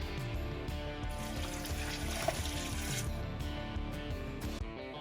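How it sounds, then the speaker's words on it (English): Chicken broth pours steadily into a pot for white chicken chili, a continuous liquid rush with a faint splash partway through, close by with no talking. "Next, we added 3 cups of chicken broth."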